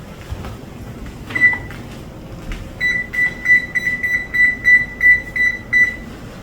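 Oven control panel beeping as it is switched on and set to 400 degrees, one short beep followed by a quick run of about a dozen bright electronic beeps, close and clear over faint kitchen background noise, with no talking.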